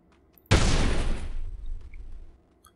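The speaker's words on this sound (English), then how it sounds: "if an explosion occurs a little too close to you, your ears will start ringing" A sudden loud explosion with a burst of gunfire erupts in the Delta Force 2 video game, a sharp blast that rumbles and decays over about two seconds before fading to near silence.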